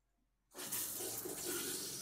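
Hot water from a travel trailer faucet bursts on after a half-second of quiet, then gushes in a steady, loud, close hiss that holds to the end.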